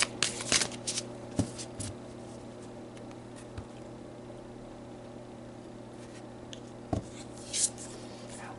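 Tarot cards are shuffled and one is drawn, giving short papery riffles and flicks in a few separate bursts over quiet room tone, close to the microphone, with no speech.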